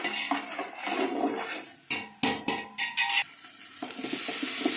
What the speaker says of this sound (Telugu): కొబ్బరి పేస్ట్ ఎర్రగా వేగింది.